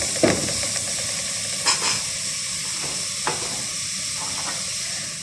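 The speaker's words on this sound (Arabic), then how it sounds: "انا عندي هنا معلقه سمنه كبيره، نزلت عليها بصلايه كبيره وبقلبهم في بعض" A large onion sizzles in a big spoonful of ghee, a steady frying hiss with a few scraping stirs of the spoon.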